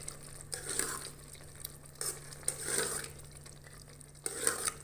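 Petha halwa cooked with desi ghee being stirred in a pan, with repeated scraping and sizzling strokes in uneven bursts, close and moderately loud, with no talking.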